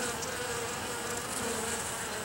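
Honeybees buzzing in a steady dense drone at a hive entrance during winter cleansing flights, as workers carry dead bees out. The hum is close and continuous, with no talk.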